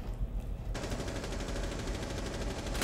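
Rapid gunfire from Rainbow Six Siege shooting through a wall: a dense, sustained stream of shots bursts in after a short muffled lead-in and keeps hammering steadily and loudly to the end.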